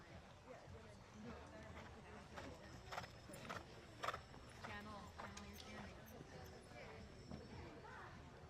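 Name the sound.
horse cantering in a dressage test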